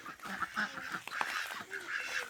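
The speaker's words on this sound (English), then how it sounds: "The chickens and the ducks are all right here." Ducks and chickens calling close by on a small farm, a busy run of quacks and clucks overlapping at a steady level with no talking.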